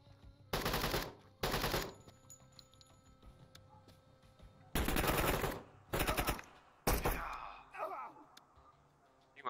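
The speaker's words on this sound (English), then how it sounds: "My buddy just shot through my other buddy to get that one terrorist" Gunfire in Door Kickers 2, several loud automatic bursts, each lasting around half a second to a second, with quieter gaps between them and shorter bursts near the end.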